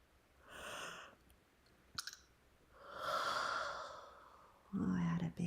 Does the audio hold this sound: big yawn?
yes